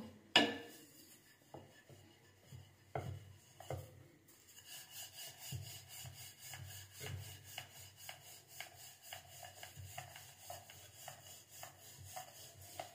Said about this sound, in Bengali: সামান্য শুকনো আটা ছড়িয়ে দেব, একটা গুটি নেব, এবার এটা বেলে নেব।